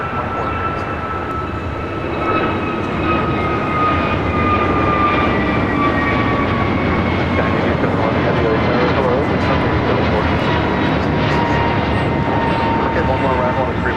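An airliner takes off from runway 25 right at LAX, a sustained loud jet roar with slowly falling whining engine tones, while people talk over it.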